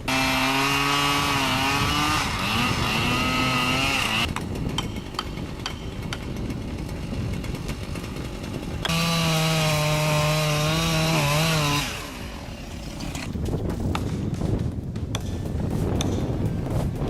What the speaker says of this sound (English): The sound of that Husqvarna 312 OXP is pure music.